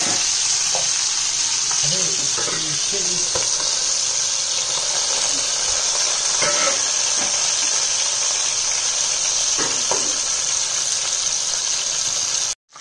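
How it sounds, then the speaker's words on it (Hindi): A whole tandoori chicken frying in a covered pan, a loud continuous sizzle and hiss near at hand, with occasional soft clanks and stirring sounds and no talk. "देखिए हमारा चिकन अच्छे से फ्राई हो चुका है"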